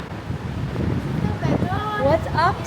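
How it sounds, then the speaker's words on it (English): Wind gusting outdoors at a Bangkok hotel, a steady broadband rush that swells and buffets the microphone, with voices talking over it. "It's windy."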